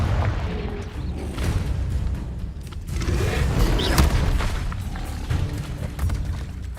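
Confringo explosion spells in Hogwarts Legacy boom in a loud, dense barrage of deep blasts and thuds, continuous throughout with a few sharper impacts layered over the rumble.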